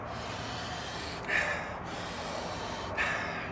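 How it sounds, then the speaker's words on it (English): Two quick, sharp inhales through the nose during a Sheetkari breathing exercise, each a short hissing sniff separated by quiet room tone. "Inhale through your nose."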